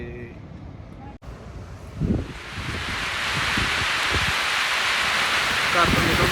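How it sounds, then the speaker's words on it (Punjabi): Steady rain falls outdoors in Southall, a broad hiss that builds after a brief quieter start, with some scattered rustling and patter. "ਇੱਥੇ ਪਹੁੰਚੇ ਤੇ ਬਾਰਿਸ਼ ਹੋਣ ਲੱਗ ਗਈ"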